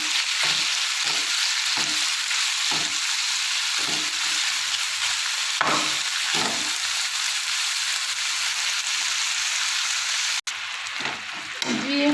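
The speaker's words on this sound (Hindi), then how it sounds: "तकरीबन हम इसको 2-3 मिनट के लिए फ्राई करते हैं।" Minced meat (keema) fries in a pan with a loud, steady hiss and crackle throughout, broken by scraping stirs at irregular intervals.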